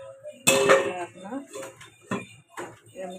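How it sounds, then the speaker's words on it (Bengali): A metal lid set down onto a cooking pan gives one loud clattering clink, followed by softer clinks and kitchen handling noises under a nearby voice. "ঢাকনাটা দিয়ে দেবো।"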